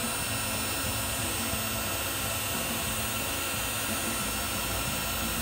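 Looft Lighter electric hot-air charcoal starter blowing hard, a loud, steady roaring rush of air with a low rumbling undertone that holds constant for the whole stretch.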